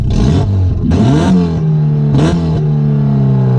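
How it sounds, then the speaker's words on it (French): A Volkswagen Golf 3 GTI engine without its catalytic converter revs hard and loud in three quick blips, each rising sharply and then settling back to a steady drone. "Ça fait un petit peu plus de bruit à haut régime, mais au ralenti, c'est pas la même sonorité, c'est pas le même ton"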